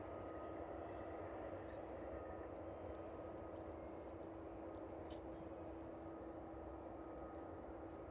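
Aircraft taxiing along the airfield at East Midlands Airport during evening cargo operations, resembling a Learjet; a steady, continuous engine roar and whine holds throughout, moderately distant, with no talk over it.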